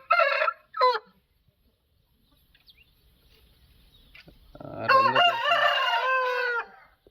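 Two short clucking calls, a pause, then a loud, drawn-out rooster crow close by.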